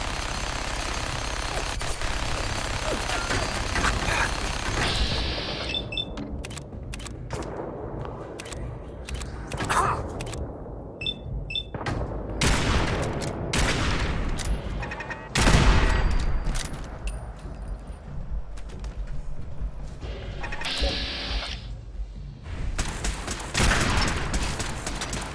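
Gunfire in Fallout 4, long stretches of rapid automatic fire and heavy bursts mixed with sharp single shots and an occasional boom, loud and dense over the whole span.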